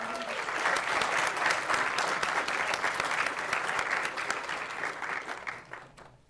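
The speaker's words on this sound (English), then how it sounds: "Please give them a huge round of applause" Dense, sustained audience applause at a climate leadership conference plenary session, a steady wash of many hands clapping that tapers off near the end, with no voices over it.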